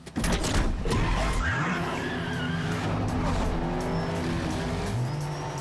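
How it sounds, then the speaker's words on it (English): A Mercedes S550 drifts in a parking garage, its tires squealing in long, loud, wavering screeches over a revving engine, echoing in the enclosed space. "he's drifting around Buddy in the parking garage like a shark circling its prey"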